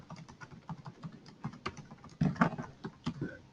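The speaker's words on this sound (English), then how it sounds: "I type in another new password" Rapid key clicks as a new password is typed on a computer keyboard, a close, uneven run of taps with a few heavier strokes near the end, no voices.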